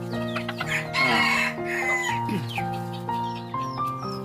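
A green junglefowl hybrid rooster crows loudly and close by, with several clucks and calls around the crow and no other sound over it.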